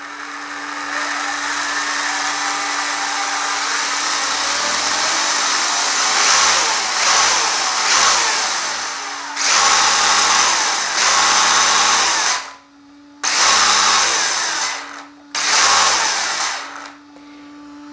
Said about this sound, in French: on a un moteur à capteur avec ce petit Hobby-Wing là